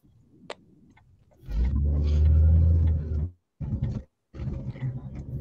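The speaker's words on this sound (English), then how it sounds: "I can just hear car sound." A car engine rumbles loud and close for a couple of seconds, then cuts out and returns in short bursts, with a faint sharp click just before it starts.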